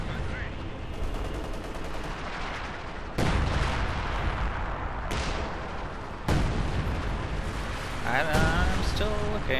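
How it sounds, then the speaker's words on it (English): Heavy artillery barrages in a multiplayer strategy war game rumble dense and continuous, with sharp loud blasts striking around 3 and 6 seconds amid constant distant gunfire, and a voice briefly murmuring near the end. "Oh, that was major artillery"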